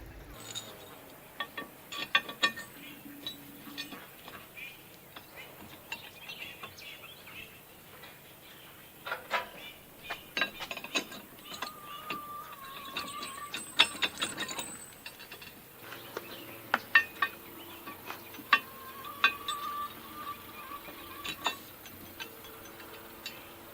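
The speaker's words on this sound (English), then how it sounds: "First, I'm loosening the nuts again to give me more wiggle room." Metal nuts being loosened on bolts through a wooden post-and-beam frame of a shed, giving scattered ratcheting clicks, clinks and tool taps at close range with brief squeaks, in a quiet workspace.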